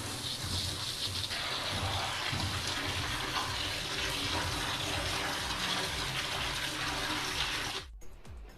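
Tap water gushes steadily into a sink as goat intestine (ojri) is washed under it, a continuous close splashing that cuts off abruptly near the end.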